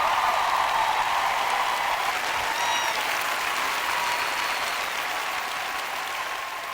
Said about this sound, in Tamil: அந்த புனித தேவனுக்காக நீங்கள் கைத்தட்டுங்கள்